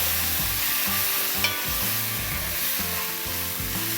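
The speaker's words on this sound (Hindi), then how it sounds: "इसको थोड़ा प्याज के साथ फ्राई कर लेंगे" Ginger garlic paste frying in a pan with browned onions as it is stirred, giving a steady close sizzle with rhythmic scraping strokes of the spoon and no talking.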